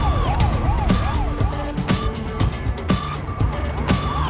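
Cartoon police car siren wailing in repeated rising-and-falling sweeps, loud and close, with a steady tone and sharp musical hits layered over it as the chase continues.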